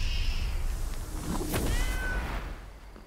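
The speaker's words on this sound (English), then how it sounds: "And the cat is here again." A video-game cat gives a couple of clear, drawn-out meows over a steady game background hum, close and distinct, with no talking.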